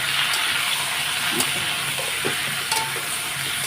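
Potatoes fry in a pan with salt, turmeric, cumin powder and Kashmiri chili powder, sizzling steadily and close while a spoon stirs through with occasional scrapes and taps, no talk.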